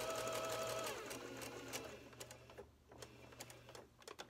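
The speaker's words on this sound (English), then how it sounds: "stitch to within 1/4 of an inch on this side" A sewing machine stitching fabric for a dog diaper, with rapid mechanical whirring that runs fairly quietly, followed by scattered clicks and small knocks as it slows and stops.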